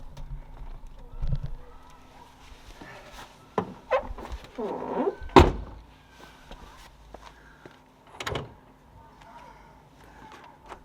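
A Mini R50 car door is shut with one sharp, solid thud, followed by a fainter latch or lock click, heard nearby amid shuffling footsteps and people talking.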